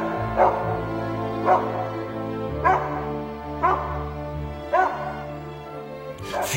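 A large dog barks repeatedly at an old market hall in Laval, about five evenly spaced loud barks over a steady tonal musical background, with no talk.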